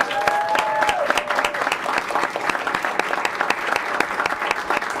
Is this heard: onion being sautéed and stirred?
no